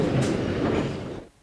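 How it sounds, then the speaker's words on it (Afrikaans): A loud, rumbling metro train accelerates in a tunnel, jerky, with clattering wheels, the noise fading sharply at the end. "Rukkerig en met 'n groot lawaai word die afstand dan afgelê."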